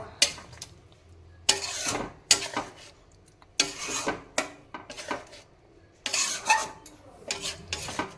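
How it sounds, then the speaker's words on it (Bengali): A spatula stirring an egg dish in a pan, with irregular bursts of scraping and clinking against the metal separated by brief quiet gaps, moderately close and without talk. "খুন্তির সাহায্যে সব কিছুকে আবার ভালোভাবে আমরা মিশিয়ে নেব"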